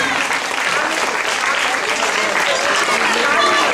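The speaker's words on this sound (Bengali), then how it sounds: "হাততালি" Audience at an evening cultural programme breaks into loud, dense applause, with continuous clapping filling the whole stretch.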